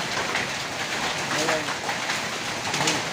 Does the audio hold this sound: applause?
no